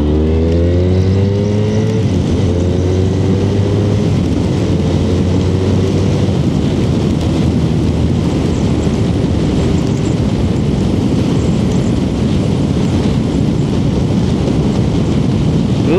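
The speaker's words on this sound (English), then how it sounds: "A lot of wind noise" Heavy wind rushes past a rider on a Honda VFR 1200 motorcycle at speed, a loud continuous roar that buries the engine, whose rising note is heard briefly at the start, with no talking.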